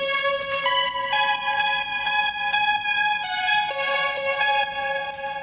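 A bright, plucky synth lead from the Sytrus plugin in FL Studio plays a quick repeating melody of short, punchy notes with crisp attacks, steady and loud with no voices.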